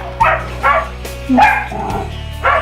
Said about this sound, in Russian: Ой, собаки